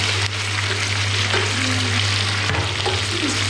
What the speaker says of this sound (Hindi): ये मैं प्याज डाल रही हूँ।